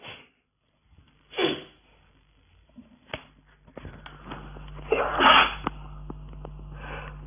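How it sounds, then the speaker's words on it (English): A single sharp sneeze bursts out near the start, followed by quieter handling noises, a low steady hum and faint murmuring in an indoor lecture setting. "I was sneezing."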